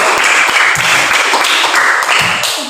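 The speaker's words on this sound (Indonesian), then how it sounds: "Tepuk tangan buat kita semua." Primary school pupils in a fourth-grade classroom break into sustained applause, a dense wash of close clapping hands with a few louder individual slaps.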